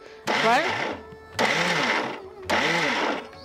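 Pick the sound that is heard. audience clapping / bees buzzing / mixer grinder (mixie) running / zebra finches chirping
mixer grinder (mixie) running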